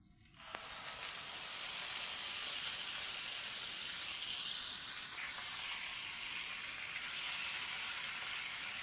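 Onion paste dropped into hot oil for a fish curry: a sudden loud burst of sizzling that settles into a steady, bright hiss of frying, close up and continuous.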